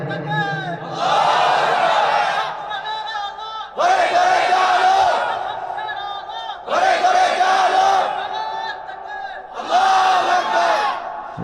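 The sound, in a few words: crowd shouting takbir chant at Islamic sermon gathering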